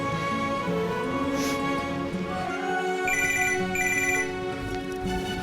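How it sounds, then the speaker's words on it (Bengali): A phone ringtone plays on an outgoing call over steady background noise, a repeating melodic tone that continues through the whole stretch without any voices. "তার আগে আবিরকে একটা ফোন করি"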